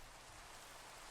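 Steady rain falls in the Minecraft video game, a dense, even hiss of drops that fills the short moment without change and with no talk.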